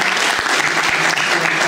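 An audience at a gathering with Olympic wrestlers bursts into full, dense applause, a loud continuous wash of clapping with no speech over it.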